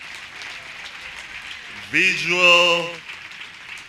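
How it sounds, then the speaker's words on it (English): Audience applause at a college graduation ceremony for hairdressing, arts and design graduates: a steady wash of clapping runs throughout, with a voice speaking briefly over it in the middle. "let's give another round of applause for our hairdressing,"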